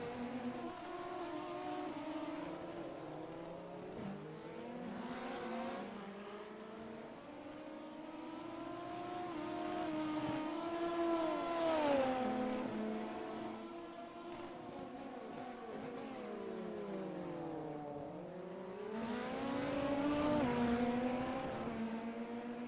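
BMW formula cars in a racing game weave down the pit straight at Portimão, engine notes rising and falling in pitch as cars shift gears and pass, a continuous moderately loud whine.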